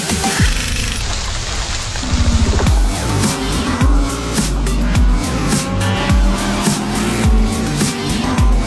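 ADAC GT Masters race cars at Zandvoort pulling into a crowded pit lane, loud engine drones and downshift blips overlapping, with several cars passing one after another close by.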